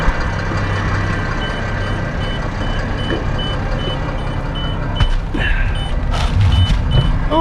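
Case Optum 300 CVX tractor sounds a regular, evenly spaced operator-not-seated warning beep over a steady engine hum in the cab, with some thumps and movement later on.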